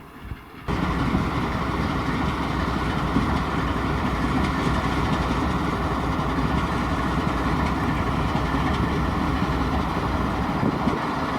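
A Norfolk Southern diesel locomotive, Pennsylvania Railroad heritage unit number 8102, idles nearby with a steady, loud engine rumble and hum that continues unbroken throughout.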